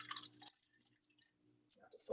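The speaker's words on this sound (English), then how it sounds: "but I'm just going to pour some water in" Water poured into a metal can during a can-crush demonstration: a short, splashy pour right at the start, then near silence, and a voice briefly at the end.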